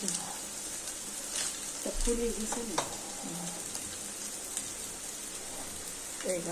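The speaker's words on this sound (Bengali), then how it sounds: "চাউমিনগুলো সব দিয়ে দিয়েছে মা ভালোভাবে ভেজে নেবে" Chow mein noodles stir-fried in a pan give a steady, rain-like sizzle throughout, broken by a few clanks of a utensil, close up. A voice is faintly audible in the background.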